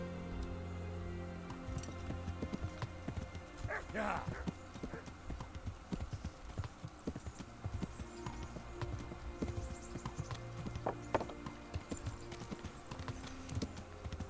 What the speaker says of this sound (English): Looks like a horse.